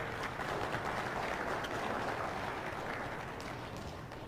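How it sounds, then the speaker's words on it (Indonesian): Audience at a first-round televised regional election debate applauding, a dense steady patter of many hands clapping that fills the room and fades slightly near the end. "Kita beri tepuk tangan dulu."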